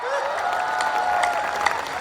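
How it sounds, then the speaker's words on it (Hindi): Audience at a Hindi kavi sammelan poetry recital clapping in a steady, continuous wash of applause, with a sustained musical tone running underneath throughout. "जरा ढंग से ताली बजाइए आप"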